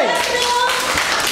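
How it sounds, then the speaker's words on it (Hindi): Children at a kids' play school clap together for a classmate, a brief dense burst of handclaps mixed with voices over a steady busy background. "मोहसिन डॉक्टर बनेगा, ताली बजा सकते हो"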